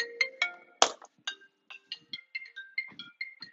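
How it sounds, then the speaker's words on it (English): A mobile phone ringtone plays indoors as a quick series of bright, melodic electronic notes, with one loud clatter partway through. "whose phone's ringing?"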